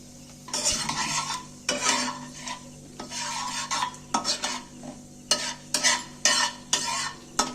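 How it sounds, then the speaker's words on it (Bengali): Whole garam masala, a cinnamon piece, cardamom, cloves and cumin seeds, frying in hot oil, with repeated close scraping strokes of a spoon against the pan over a faint sizzle. "তেলের মধ্যে আমি ফুরনগুলোকে দিনু একটু নাড়াচাড়া করে ভেজে নিচ্ছি"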